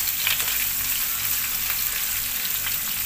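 Green chillies and curry leaves fry in hot oil in a pan for South Indian lemon rice, giving a dense, continuous sizzle with faint scraping as they are stirred, close and steady throughout.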